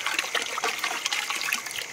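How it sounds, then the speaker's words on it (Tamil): Rose water trickles steadily as it is poured into a pot of Malabar chicken biryani, a close, continuous splashing dribble of liquid with no voices. "ரோஸ் வாட்டர் ஊற்றிடலாம்."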